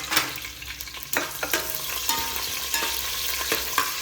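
Green chillies fry in a pan for palak soya pulao, crackling and sizzling up close while a spatula stirs and scrapes in several distinct strokes over the hot oil.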